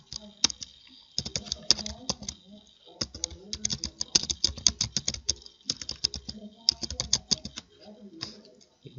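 Quick, busy clatter of keys on a computer keyboard as Python print commands are typed, close and continuous in bursts with brief pauses between them.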